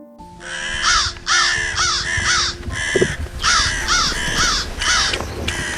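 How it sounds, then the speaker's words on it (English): Vultures call harshly while circling overhead, with repeated loud, raspy caws arriving in quick bursts and pauses, near and clear with no talking. "Several vultures took off, but the hungriest ones continued to circle, not wanting to let go of their prey."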